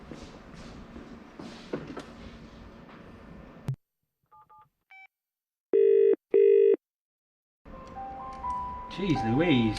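A landline telephone on a home workshop bench rings in two loud, evenly spaced electronic bursts after a short run of dialing tones, between stretches of muffled shop noise.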